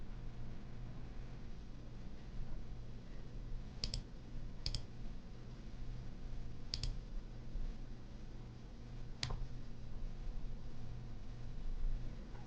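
Several sharp, faint clicks sound from a Lenovo Legion Go handheld during Windows setup, spaced a few seconds apart over a low steady hiss.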